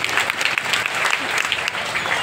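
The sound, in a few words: applause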